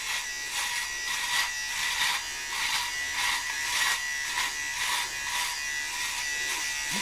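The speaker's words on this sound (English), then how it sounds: "Hopefully the sound is good with me with this razor going." Electric razor buzzing steadily as it shaves a beard, close and continuous with a slight pulsing rhythm as it passes over the face, heard alone.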